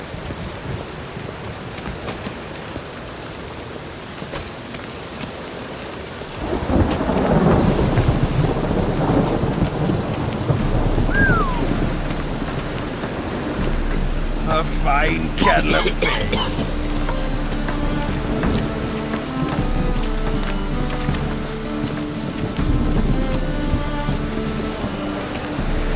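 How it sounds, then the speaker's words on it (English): Steady rain pours in a video game city during a thunderstorm, with a rumble of thunder rolling in partway through and a voice briefly speaking over the downpour. "Rain makes this city even more dreary."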